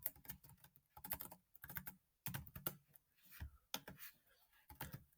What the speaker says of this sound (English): So I can then type the animal I'm looking for.